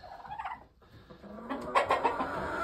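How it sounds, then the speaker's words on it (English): Roosters clucking inside a coop, a brief close burst of several overlapping squawky clucks after a short pause, with farmyard background. "So we got like 11 roosters in here."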